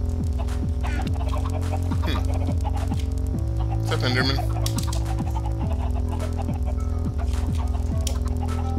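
Minecraft chickens cluck repeatedly over steady game music, with a player talking over the in-game sounds.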